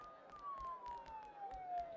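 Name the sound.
sirens in the video game Persona 4 Golden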